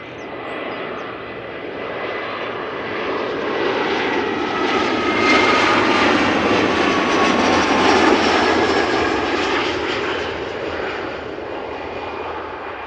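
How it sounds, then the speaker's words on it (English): A KLM Embraer 175 regional jet arrives at Amsterdam Schiphol Airport, its engine roar swelling steadily as it passes fairly close, loud and continuous with a whining tone, then easing slightly toward the end with no voices. "So this is KLM flight 916, Embraer 175 arriving from Southampton after 47 minutes of flight."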